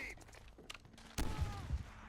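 STG-44 assault rifle firing in a Call of Duty video game: a short burst of loud, close gunfire following a brief lull, with a player talking around it.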